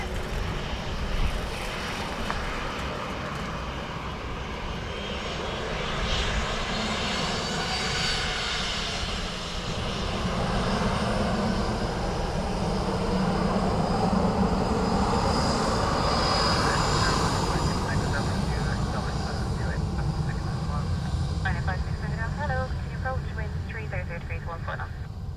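A Ryanair airliner at Dublin Airport, a loud sustained engine roar that builds and shifts in pitch over about twenty-five seconds, with people talking over it.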